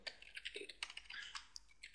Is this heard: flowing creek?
no